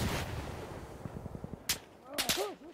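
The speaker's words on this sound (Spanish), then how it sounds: "Me están disparando y no sé de dónde cojones me están disparando." Gunfire aimed at the player in Insurgency Sandstorm: a string of sharp rapid shots cracking in a fast rhythm, then a few louder nearby bangs, with game sounds in between.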